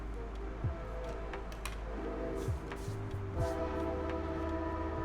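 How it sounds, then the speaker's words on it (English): A real train passes faintly in the distance, its horn sounding in several long tonal blasts over a low steady rumble of rolling cars. "there's a real train for you in the background anyway"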